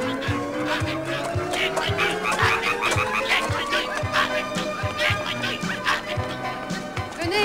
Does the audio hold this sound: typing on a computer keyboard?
no